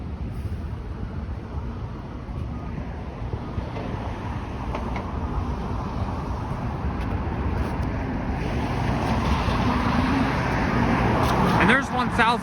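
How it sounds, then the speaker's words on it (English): A noisy car passes close by on a city street at Lawrence and Jane in Mount Dennis, its roadway rumble building steadily and peaking loudly near the end, with traffic noise throughout. "That car is so noisy."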